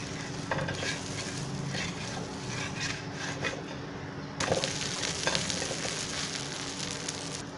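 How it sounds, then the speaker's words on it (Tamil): A dosa frying in oil on a pan gives a steady close sizzle with a scraping, rasping texture, likely a spatula on the pan, and a louder burst of crackle about halfway through. "இந்த தோசையில் நம்ம 2 சைடும் ஆயில் விட்டுக்கலாம்."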